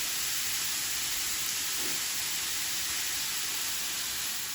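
Bacon frying in a pan gives a steady, dense sizzling hiss that holds evenly throughout, fairly close, with no talking.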